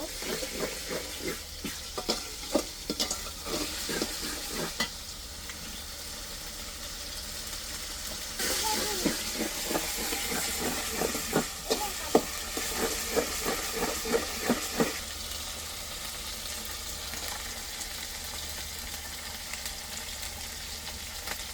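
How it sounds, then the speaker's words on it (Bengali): Garlic paste sautéing for bhuna khichuri, a loud hissing sizzle with bursts of rapid rhythmic scraping as it is stirred in the pan, close and continuous, with no talking. "রসুন বাটা একসাথে দিয়ে দিলাম, একটু কষিয়ে নেব।"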